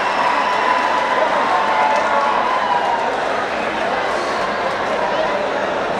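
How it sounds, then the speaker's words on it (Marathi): Crowd roaring and cheering at a men's and women's kabaddi tournament, a dense, loud, continuous wash of voices from a packed ground, steady throughout with no single voice standing out. "जल्लोष बघा तिकडे"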